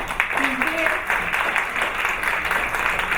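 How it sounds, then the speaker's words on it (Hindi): An audience of women clapping at the opening of a beautician event, a steady wash of applause with a few voices mixed in, moderately loud. "तो सबसे पहले तो अपने लिए तालियां बजा दें।"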